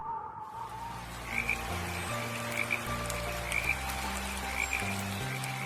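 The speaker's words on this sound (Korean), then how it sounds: "비가 오면 개굴개굴 더 크게 울어요." A tree frog croaks in a series of short, repeated calls spaced about a second apart over a soft, low background melody.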